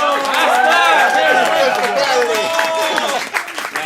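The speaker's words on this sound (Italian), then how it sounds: "Un applauso per Rocco!" Clapping continues at a bookshop birthday celebration with a Sardinian association, now mixed with many raised voices calling out and chattering over it, loud and crowded throughout.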